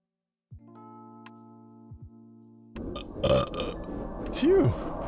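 A person burps after a carbonated drink during a live stream, a low short belch heard after some electronic tones, then louder bursts with vocal noises and a rising voiced sound.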